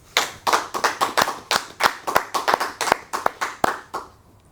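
A church congregation claps together in a fast, steady rhythm of about two dozen sharp claps, fairly loud and close, with no talk over it, then the clapping stops and trails into quiet.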